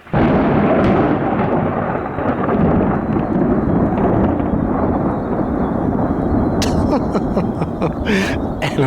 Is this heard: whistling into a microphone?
no